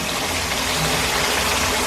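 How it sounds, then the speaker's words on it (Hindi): Water poured into a pot of chicken korma simmering in ghee, a steady broadband gush that runs unbroken and fairly loud for about two seconds with no talking. "अब मैं इसमें शामिल करने लगी हूँ पानी।"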